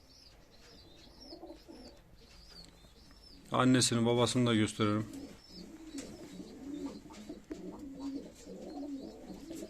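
Domestic play pigeons coo softly and steadily in the background, while someone talks briefly over them at close range.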